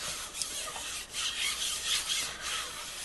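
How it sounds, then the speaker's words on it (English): A silkscreen is burnished lightly onto polymer clay with soft, rhythmic rubbing strokes, close and quiet, with no voices. "I'm just going to burnish it lightly onto the clay so that it's stuck."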